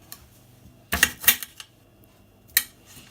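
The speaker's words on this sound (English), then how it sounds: "Next thing you need to do is slice up your tomato." A knife cutting a tomato on a board makes a quick cluster of crisp chopping taps, then a pause and one final sharp knock, close and without talk.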